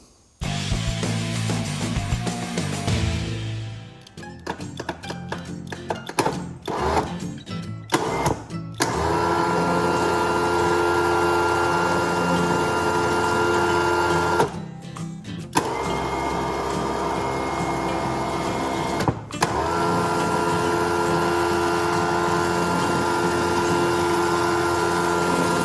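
A Traveller winch motor, freshly fitted with a new relay, runs in a steady mechanical whir. It starts after a few seconds of clunks and handling noise and keeps going with short pauses around the 15- and 19-second marks.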